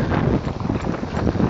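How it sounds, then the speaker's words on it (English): Strong wind gusting outdoors on an open hunting field in South Texas during whitewing dove season, a steady loud broadband roar buffeting the microphone throughout with no voices. "Sorry that the wind is blowing."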